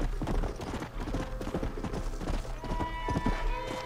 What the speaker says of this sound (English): I don't know how to slow my horse down.